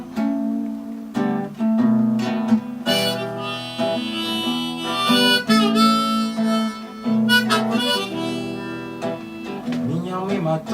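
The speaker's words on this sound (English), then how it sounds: "he's got his harmonica strapped, right in front of him, and also his guitar" A harmonica and an acoustic guitar played together by one musician, a steady strummed accompaniment under a sustained, wavering melodic reed line, loud and close throughout with no talking.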